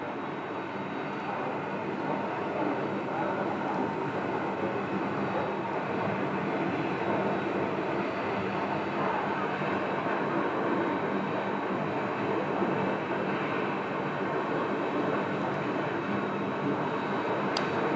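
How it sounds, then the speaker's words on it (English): A Piper Cherokee comes in to land at Scottsdale, its engine a steady, distant drone holding evenly throughout under a constant hum of outdoor background noise. "So we have a Piper Cherokee landing"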